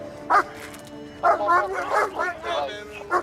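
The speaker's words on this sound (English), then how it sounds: "the dog won't bite you, I won't let it" A Metropolitan Police dog barks close by in a burst of repeated sharp, yelping barks, with voices mixed in around them.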